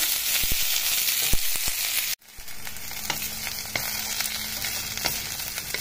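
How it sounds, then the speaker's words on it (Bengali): Green chillies and onions fry in a pan for a spicy black cumin seed chutney, a loud close sizzle with crackles that cuts out abruptly, then resumes a little softer with a low steady hum beneath. "কাঁচা লঙ্কাও দিয়ে দিলাম এর সাথে একেবারে ভাজার জন্য।"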